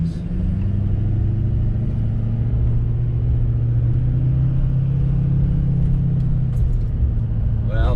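A car drives steadily along a highway on a test drive after a DSP5 switch install, its engine a loud, close, continuous low rumble with a gradual rise in pitch partway through and a brief higher sweep near the end.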